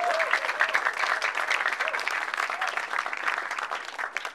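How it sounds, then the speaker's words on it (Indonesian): An audience at a televised stand-up comedy show in Indonesia breaks into steady applause, dense clapping that stays fairly even for several seconds, moderately loud with a faint voice underneath. "tepuk tangan untuk bahasa Indonesia"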